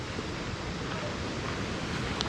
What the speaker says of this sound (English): That waterfall in the distance there is 10 meters high.